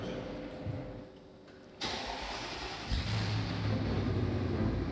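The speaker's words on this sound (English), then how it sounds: "The Batmobile goes for a little spin" A Batmobile replica car on the outskirts of Moscow cranks and fires up, its engine catching abruptly after a quiet pause, then settling into a rising rumble as it pulls away, heard from nearby at moderate volume.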